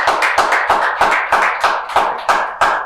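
Studio audience applause on a talk show, a loud, close burst of hand claps with a regular beat, heard alone with no talking.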